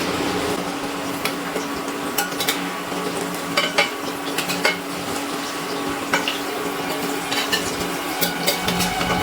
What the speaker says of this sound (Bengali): এক এক করে পনিরগুলো তেলের মধ্যে ছেড়ে দিচ্ছি ভাজার জন্য